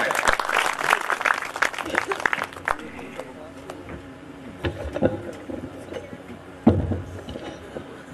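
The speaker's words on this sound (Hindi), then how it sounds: "एक बार जोरदार तालियां कर" Audience at a Hindi comic poetry recital breaks into loud, dense applause that tapers after a few seconds into scattered individual claps, with voices murmuring beneath.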